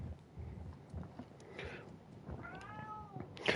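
A cat meows inside the NFL 25 video game, a few drawn-out rising and falling cries over a low background rumble, fairly close and alone without talk.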